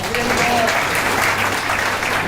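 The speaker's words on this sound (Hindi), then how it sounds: "माते की जोरदार ताली" Loud, steady applause from an audience at a Hindi devotional talk on Lord Jagannath, greeting a devotee seated at the back, with cheering voices mixed into the clapping throughout.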